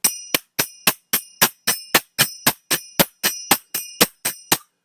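A steady series of bright, ringing metallic strikes from majeera hand cymbals, evenly spaced about three per second, each with a sharp attack and short shimmering decay, with no voices.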